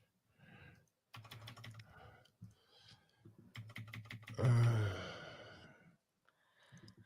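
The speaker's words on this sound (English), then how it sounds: "Are you trying to make me look better by pounding your keyboard?" Someone hammering hard on a computer keyboard, loud bursts of rapid clacking keys separated by short pauses, with sighs and breathing close to the mic.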